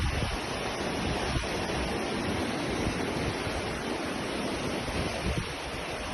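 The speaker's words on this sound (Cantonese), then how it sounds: "我望遠少少呢度，啲白頭浪，哇！" Wind and rushing sea from the deck of a cruise ship over ocean whitecaps, a broad, steady roar of water and air with microphone buffeting, continuous and loud, no talk.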